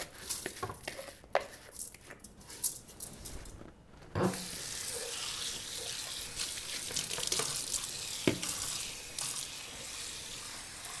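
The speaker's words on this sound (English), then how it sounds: "And I'll just pour the water over and make sure it's a little more." Water poured over rice in a pot while cooking yassa chicken, a splashing, gushing pour with intermittent bursts and a louder stream midway, close and alone without talk.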